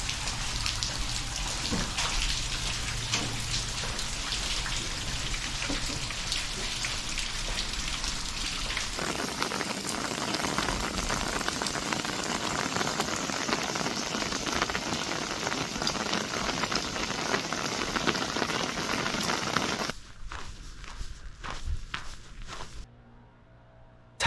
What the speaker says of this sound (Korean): 마침 비가 오는군요